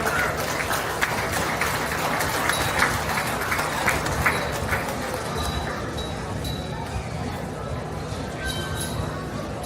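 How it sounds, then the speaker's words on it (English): Steady crowd applause at a county fair beef show in Montgomery County, clapping sustained and fairly even, with a voice speaking over it. "Give those individuals a great round of applause"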